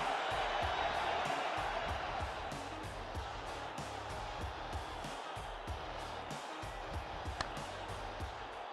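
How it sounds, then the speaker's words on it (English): A crowd at a cricket video game match gives a continuous, roaring cheer that fills the scene, with a faint voice now and then underneath the steady wash of noise. "Listen to that crowd."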